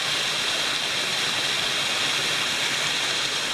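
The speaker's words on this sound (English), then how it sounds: "We found a really cool waterfall on our hike." Steady, loud roar of a waterfall encountered on a hike, a continuous broadband rush of falling water with no breaks and no voices.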